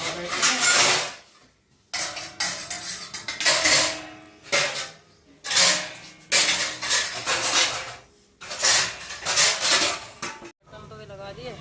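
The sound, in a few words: washing metal dishes, pots and pans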